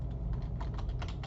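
A command being typed on a computer keyboard, a brief burst of soft, quick key taps, close and steady, over a low background hum.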